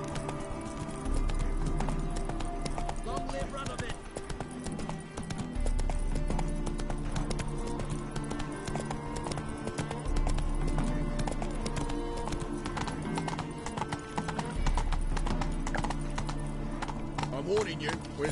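Roach the horse gallops through The Witcher 3, hooves clip-clopping in a steady, continuous rhythm close by, with game music and ambient sound underneath and a voice talking over it.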